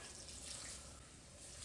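Roughly a cup of water is poured into a bowl of salted cabbage, making a steady, soft, continuous splashing rush, faint and unaccompanied by speech.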